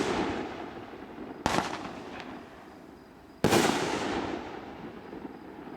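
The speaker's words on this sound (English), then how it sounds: "It's the 10-shot speed racer, and it finishes with a shot and fills the sky with a willow." A 10-shot Speed Racer firework cake fires outdoors: two sharp booming reports, each followed by a long crackling, hissing tail, with a smaller pop between them.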